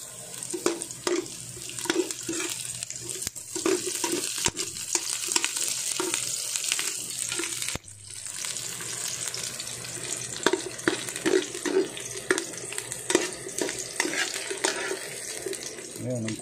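Garlic sizzles and hisses as it is stir-fried in a pan for lomi, a steady frying crackle broken by repeated scraping stirs and spatula clinks, close and moderately loud, with occasional speech.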